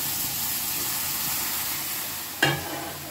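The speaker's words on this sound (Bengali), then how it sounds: "এরপরে আমি মেন উপকরণ দুধ দিয়ে দেবো" Milk is poured into a hot pan of well-fried carrots for gur carrot halwa, giving a steady frying sizzle with a sharp burst of hissing about two-thirds through as the liquid hits the pan.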